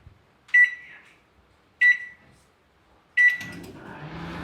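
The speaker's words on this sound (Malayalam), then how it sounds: "നമ്മൾ ഫസ്റ്റ് ഓവൻ പ്രീ ഹീറ്റ് ചെയ്യണം വൺ എയ്റ്റി ഡിഗ്രി സെൽഷ്യസിൽ നമ്മൾ പത്ത് മിനിറ്റ് നമ്മൾ പ്രീ ഹീറ്റ് ചെയ്യണം" Three short electronic beeps from an oven as it is set to preheat to 180 °C. They come evenly spaced, loud and close, and a low hum starts after the last one.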